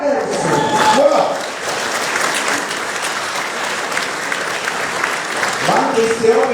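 An audience claps loudly and continuously at a lively accordion music festival. The applause fills the whole stretch, with brief tonal music snatches at the start and end.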